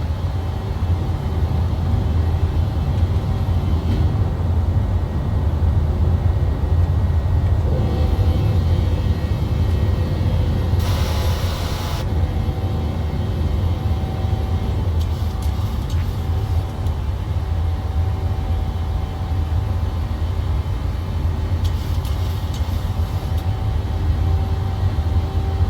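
In the MSFS video game, a PMDG 737 airliner in the cockpit climbs after takeoff, its engines producing a steady, loud, low roar that holds constant throughout with a few faint clicks.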